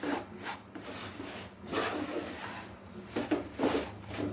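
Puffed rice being stirred and mixed with jaggery in a pan, with the gas turned off, giving a steady dry rustling and scraping that swells in several bursts, close up, with no talking.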